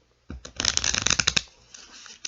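Tarot cards are riffled and shuffled in a quick crisp burst, followed by a few softer taps and slides as the deck settles, close up.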